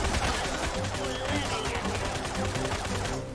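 Dense, rapid gunfire from many units in the strategy game Tooth and Tail crackles continuously under busy battle noise.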